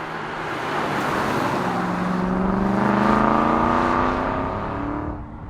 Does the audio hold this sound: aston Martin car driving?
yes